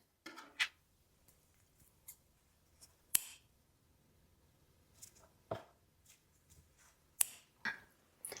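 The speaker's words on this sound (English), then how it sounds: "And now we can simply cut this remaining thread." Scissors snip crochet thread in a quiet room, giving a few faint, scattered clicks and cuts with long silences between.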